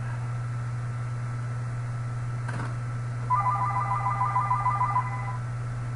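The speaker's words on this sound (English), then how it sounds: "Somebody's calling early. What phone is that?" A telephone rings partway through with a rapid electronic trill in a single burst lasting about two seconds, set over a steady background hum in what sounds like a studio.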